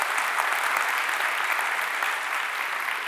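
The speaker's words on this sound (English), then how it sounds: "huge round of applause" Steady, dense audience applause fills a conference hall at a UX Brighton 2022 talk, holding at an even level for its whole length with no speech over it.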